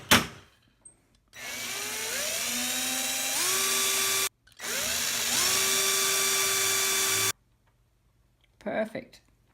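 Power drill boring a hole into the case of a Roland Juno 6 synthesizer: two sustained, loud whining runs of several seconds each, pitch rising as the bit spins up, separated by a brief pause, with a short clatter at the end.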